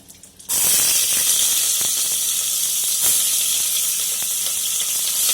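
Onions sautéing in a hot pan for a snail gravy, a loud sizzle that bursts in abruptly and holds as a steady bright hiss with a few faint scrapes, close up and alone.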